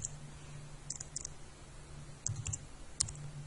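A computer keyboard typed on in a few short bursts of soft, close clicks separated by pauses, faint over a low steady hum in a quiet room.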